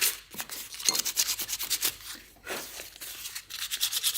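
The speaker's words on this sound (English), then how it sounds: "we're going to sand it a little bit, just using I think we're on about a P320 grit sandpaper" Wood being hand-sanded with P320 grit sandpaper, close rhythmic rasping strokes repeating about twice per second, fairly loud, with a couple of brief pauses.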